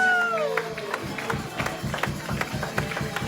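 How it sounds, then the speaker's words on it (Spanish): A church congregation applauding loudly, a dense crowd of claps with a rhythmic pulse building after a voice fades out at the start, steady and moderately close. "Dale un aplauso fuerte al Señor. Fuerte ese aplauso"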